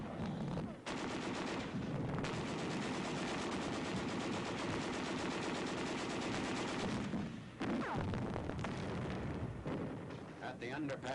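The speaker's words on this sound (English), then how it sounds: "There is some machine gun fire and occasional shells," Machine gun fire rattles in long bursts with occasional shell blasts during an advance into a city in Second World War archival footage, loud and sustained with brief pauses, and a narrator speaks over it.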